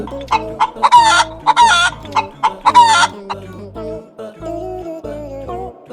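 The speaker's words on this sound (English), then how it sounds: "H for hen." A hen clucks and squawks in a run of loud, rapid bursts, followed by lower, softer clucking, close by with no talking.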